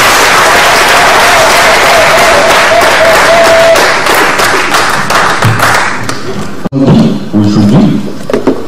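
Loud, dense applause from an audience at a Kimbangu commemoration ceremony fills the space for several seconds, then fades into scattered claps and a murmur of voices near the end.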